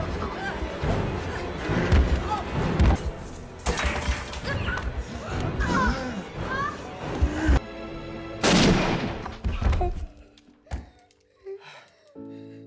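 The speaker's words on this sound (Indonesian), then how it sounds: "Jack yang menjadi Billy pun langsung menembak ayah kandungnya sendiri." Gunfire in a tense film scene from the 2017 thriller Marrowbone, with loud sharp bursts and thuds among dense music and effects, a heavy blast near the end and quieter tail.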